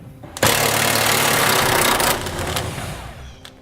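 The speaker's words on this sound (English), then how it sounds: "We'll be using a 21mm socket to remove that M14 bolt." A 21mm socket on a power tool removes an M14 bolt from a 2011 Chevrolet Silverado during a trailer hitch install: a loud, close, continuous mechanical whir for about two seconds, then fading to a softer rumble.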